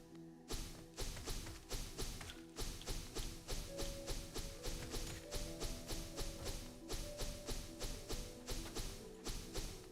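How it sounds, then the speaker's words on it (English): Controller buttons click and tap rapidly while someone plays Hollow Knight: a steady, fast series of sharp clicks runs nearly the whole time over soft game music. "I just hear your remote clicking."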